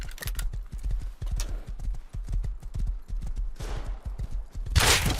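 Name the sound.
horse riding hoofbeats from the video game Rust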